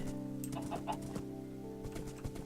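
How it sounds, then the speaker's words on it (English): Chicken clucking in Lord of the Rings Online, a series of short clucks over a steady musical and ambient game backdrop at moderate level. "There's the telltale chicken that shows he did it."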